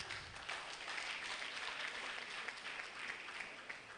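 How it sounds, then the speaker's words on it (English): Applause for the governor's representative at an NRCRI annual review and planning workshop, a fairly faint, distant patter of clapping from a modest audience, steady for a few seconds. "Let's give him a clap."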